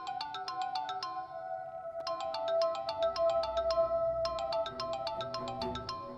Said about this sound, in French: C'est le téléphone de Nishal.